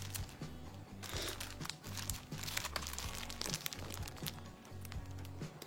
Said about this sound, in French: On prend un papier blanc, on va mettre les cartes.